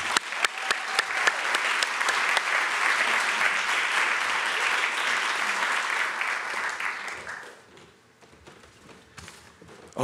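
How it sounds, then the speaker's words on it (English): Graduation ceremony audience applauding steadily for about seven seconds, a dense, fairly loud wash of clapping hands that fades out toward the end, leaving a quiet hall with a few stray claps. "Let's give a big round of applause for Tricia."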